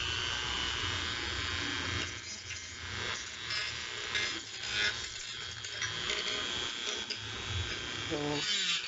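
A Dremel rotary tool fitted with sandpaper, run through a 110 transformer, scrapes at plastic with a steady close buzzing whine that wavers in pitch as it bears down. Faint voices may sit beneath it.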